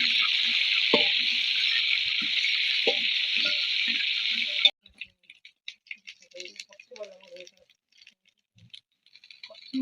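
Urad dal, green chilli and curry leaves frying in hot oil give a loud, dense sizzle that cuts off abruptly midway, after which only faint scattered crackles and clinks remain.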